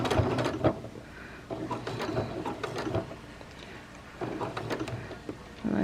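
A sewing machine runs in short bursts of rapid mechanical stitching, tying off a small knot with a couple of stitches, with brief pauses between runs, close and fairly quiet.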